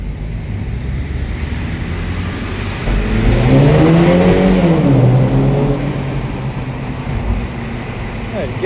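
A Golf 7 GTI Club Sport Phase 2 passes on a Monaco street, its engine swelling to a loud roaring rev that rises and falls over several seconds, with people talking nearby.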